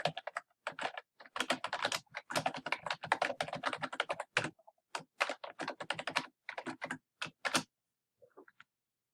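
Fingers type login credentials on a computer keyboard, a close, rapid patter of key clicks in uneven bursts with short pauses, ending in a few sparse taps.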